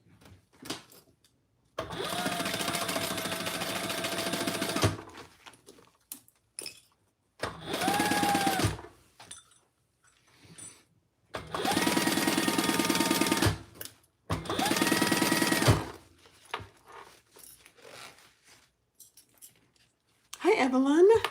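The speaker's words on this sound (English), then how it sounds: "I'm just going to baste that in place." A sewing machine bastes fabric in place in bursts of rapid stitching, four distinct runs of a few seconds each separated by quiet pauses, close up, with occasional speech between the runs.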